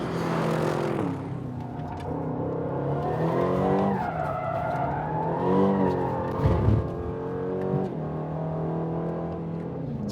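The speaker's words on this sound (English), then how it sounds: "this engine, all this extra power, sounds fantastic" New Aston Martin Vantage engine in track mode with traction control off, loud and close throughout, its pitch climbing and falling through repeated acceleration, gear changes and tyre squeal.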